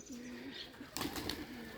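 Soft coos of Rajshahi Black Diamond pigeons repeat low and steady against a quiet background, with a brief flutter of wings partway through.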